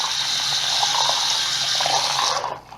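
Steady running water from a tap splashing over vape coils as soap is rinsed off, a continuous close gush that cuts off abruptly near the end.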